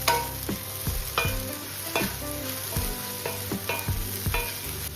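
Sabudana khichdi sizzles steadily in a pan over a high gas flame while a spoon scrapes through it in regular stirring strokes, with no talking.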